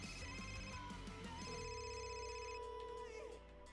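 A telephone rings with steady, tonal electronic ringing that carries clearly through the whole short stretch before stopping near the end.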